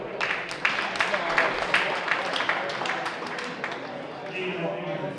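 Applause for a group of high school football players at an end-of-season team banquet, a steady wash of clapping with a few sharper claps standing out, carrying on at an even level across the room.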